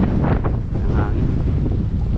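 Strong wind buffets and rumbles against the microphone in continuous gusts, loud and close, with no clear voices.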